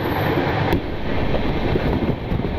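Special fare train 02501 on the Kolkata–Darjeeling route pulling hard toward NJP, a loud steady rumble and rush of wheels and wind noise, continuous and close, with no talking.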